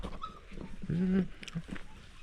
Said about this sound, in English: I think these dogs are locked in.